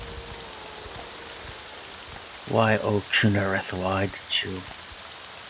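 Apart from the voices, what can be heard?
rain falling in a video game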